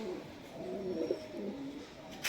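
A Punjabi Malbai pigeon, a breeding hen, coos softly while held in the hand, a low steady burble close by with a faint background hiss.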